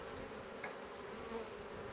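Honeybees hum steadily around an apiary near yellowing rapeseed fields in spring, a soft continuous buzz with no voices.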